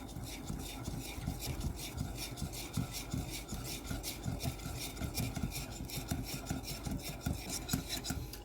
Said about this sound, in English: I'm just going to whisk this until it's completely smooth.